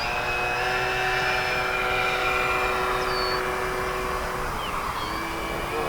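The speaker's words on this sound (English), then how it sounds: "we're going to take off this time with no flaps" A large-scale RC Cessna 182 model airplane takes off, its engine giving a steady high whine whose pitch shifts as it speeds up and climbs, loud and continuous over outdoor background noise.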